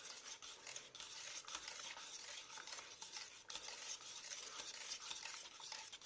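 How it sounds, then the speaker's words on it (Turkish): Liquid cream is stirred into cooled pastry cream in a bowl, giving a steady, close, faint wet scraping and churning that runs without pause and with no voices. "Güzelce soğuduktan sonra üzerine sıvı kremayı da ekleyip güzelce karıştırıyoruz"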